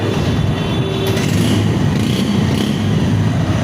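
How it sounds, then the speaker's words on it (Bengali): Engine of a 135cc motorcycle in very good condition running steadily, a dense, continuous low rumble held close at even loudness throughout, with no talk. "মেঘের গর্জন কিন্তু শুনতে পাচ্ছি আমরা এই বাইকটা থেকে"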